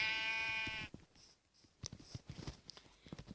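A sheep in a video game bleats once with a wavering, nasal cry, then gives way to soft tapping and quiet clicking noises.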